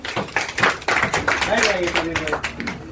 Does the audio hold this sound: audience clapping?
yes